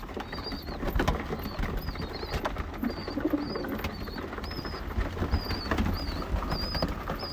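Pigeons in a coop give soft, repeated cooing calls at a steady pace, fairly close, with faint rustling and no voices.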